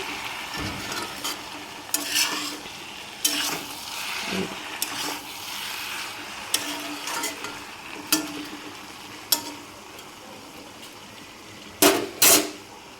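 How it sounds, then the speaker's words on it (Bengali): Bottle gourd cooking with hilsa fish heads in a pan, a soft continuous sizzle with sharp scrapes and clinks of a spatula stirring every second or so, close and without speech. "ইলিশ মাছের সব মাথা এইটা দিয়ে আজকে লাউ রান্না করছি"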